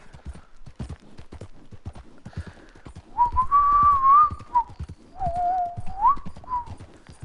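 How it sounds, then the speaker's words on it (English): A person attempts to whistle with a few missing teeth, producing two breathy, wavering whistled tones that slide up and down, set among soft clicking sounds in a quiet room. "I can't quite whistle, as you might have noticed"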